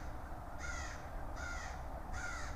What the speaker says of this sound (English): I don't think these crows like me being here.